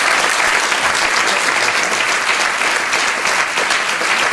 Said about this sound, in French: je vous remercie de vous applaudir,